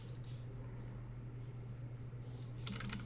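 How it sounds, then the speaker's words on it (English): Keys clatter on a computer keyboard in a few quick bursts over a steady low hum, close and fairly faint. "We're typing in GG here, right?"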